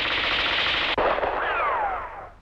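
Gunfire in a 1987 Vietnamese film, a loud close burst of rapid shots followed by a sharp crack and a descending whistle-like tail as the sound fades out.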